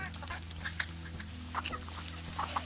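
Cartoon birds eating seeds on a path; a few quick pecking and clucking bird noises in short bursts over a soft, steady background hum.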